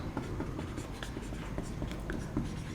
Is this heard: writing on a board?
yes